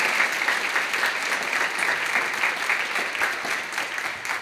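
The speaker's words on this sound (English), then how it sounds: "An applause for that." A crowd of students and families applauding at a high school choral holiday concert, a continuous, even roar of clapping that holds steady throughout without any talking.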